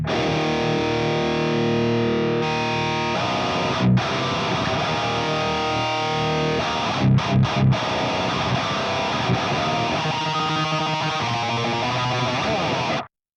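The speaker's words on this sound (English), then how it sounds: "So as you can hear, it's quite a difference with this extremely aggressive EQ curve." Heavy, densely distorted electric guitar through a Fractal FM3 with an aggressive parametric EQ, chugging chords and riffs played continuously for several seconds with a few sharp stops and accents, loud and upfront, no voices.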